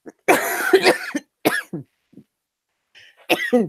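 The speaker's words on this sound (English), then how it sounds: "As I cough." A few harsh coughs close to the microphone, separated by brief silences, with a throat-clearing sound at the end.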